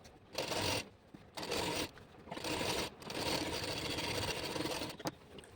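A sewing machine top-stitches the hem of a maxi dress made from an old saree, producing several close, stop-start bursts of rapid stitching, each a second or so long, with brief breaks between.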